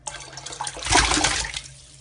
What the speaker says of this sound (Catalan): A dintre hem de posar aigua